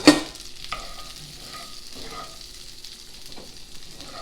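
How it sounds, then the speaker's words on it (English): An onion sautés in bacon grease in a pan, giving a close, steady sizzle with an occasional soft stirring scrape and a sharp clack at the start. "saute 1 onion in some bacon grease until they're"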